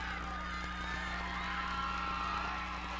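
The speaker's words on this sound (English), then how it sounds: "the crowd giving him some nice applause there" Applause and crowd noise in the stands at a 1998 high school lacrosse game between Jamesville-DeWitt and Marcellus, a steady, moderately distant wash of clapping and cheering that holds evenly for a few seconds.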